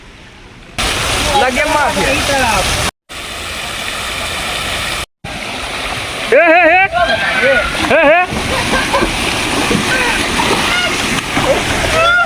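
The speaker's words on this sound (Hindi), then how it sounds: "आब नहाय भैया देखियो वाटर पार्क चालू हो गेलै।" Water sloshes and splashes at a water park in Darbhanga, broken by short gaps, with people talking and shouting excitedly over the steady wash of water.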